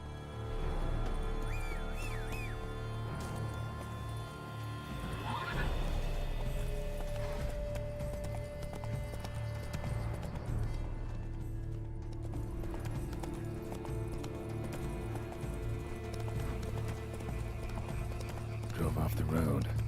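A horse in the Witcher 3 video game, its hooves clip-clopping in a steady rhythm with occasional neighs, under game music and a voice talking.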